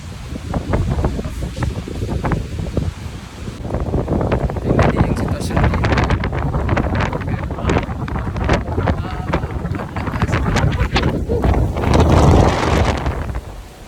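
Strong typhoon wind buffets the microphone in Hong Kong, a loud continuous roar and rumble with gusts throughout, while people talk over it.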